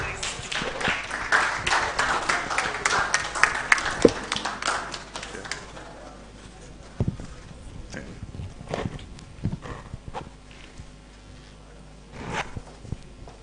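Applause from a conference audience for a speaker coming on stage, a burst of clapping that is thick at first and thins to scattered claps, with light handling and shuffling noises afterward.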